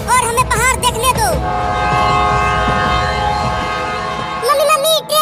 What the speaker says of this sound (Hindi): ट्रेन की सीटी की आवाज आ रही है, लगता है अब ट्रेन आने ही वाला है।